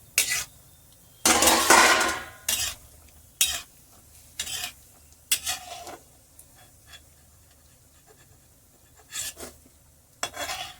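Edible gum (gond) frying in a pan, giving a series of loud scraping, crackling bursts with sharp pops and clatter, separated by quieter gaps, close by.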